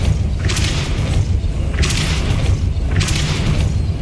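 A Depulso force spell is cast in the video game Hogwarts Legacy, and its loud whooshing bursts roll in about every 1.2 seconds over a continuous low rumbling game backdrop. No one speaks.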